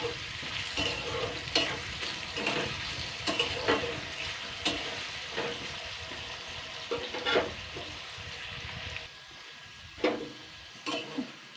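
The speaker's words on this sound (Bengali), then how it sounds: "নুন দিয়ে আলুটাকে আগে ভেজে নেব।" Salted potatoes fry in a pan, giving a steady sizzle broken by repeated scraping and stirring strokes at close range, with no voices.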